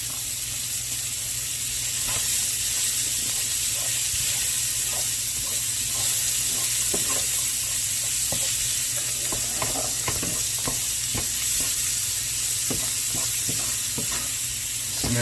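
Sweet corn sizzles with peppers and onions in a hot pan, a loud continuous frying hiss broken by repeated stirring scrapes and clicks, heard on its own.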